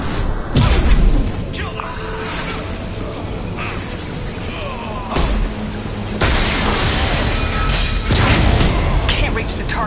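Gunfire and explosions from the Mass Effect video game, a dense barrage of booms, thuds and crashing blasts rolling on continuously with a brief shouted voice over the fighting.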